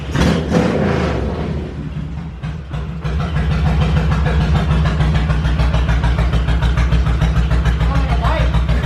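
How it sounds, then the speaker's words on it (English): A modified car engine with a very low, aggressive choppy idle runs steadily and loudly up close throughout, its uneven lope continuous under brief voices. "listen to the idle."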